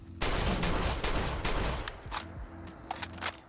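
A standard shotgun blasts away at a Deathclaw in Fallout 4, close, loud booming shots merging into a dense volley at the start, then fading into scattered sharper reports and clatter.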